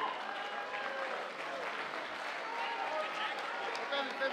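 Crowd at a JAB Promotions boxing event applauding both fighters, dense sustained clapping filling the hall with a voice over the sound system mixed in.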